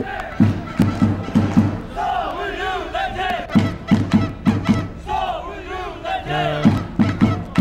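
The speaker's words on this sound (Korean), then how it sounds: "노원 마들 경기장에서만 볼 수 있는 바로 이분들의 함성이죠" Seoul United supporters at Nowon Madeul Stadium chant loudly in unison during a football match, their rhythmic shouts driven by heavy, regular drum thumps that pulse in repeated bursts.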